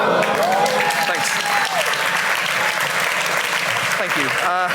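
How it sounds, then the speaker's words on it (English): An audience applauds loudly and steadily without a break, a dense wash of clapping that stays close and even throughout, with a few faint voices under it. "I appreciate you clapping."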